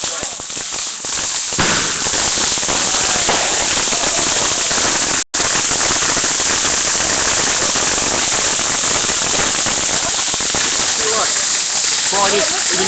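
A firework crackles and sprays sparks close by in a loud, continuous hissing crackle that briefly cuts out once, with voices speaking over it.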